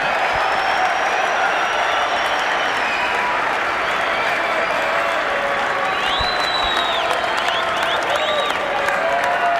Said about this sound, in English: Very well appreciated by the crowd here.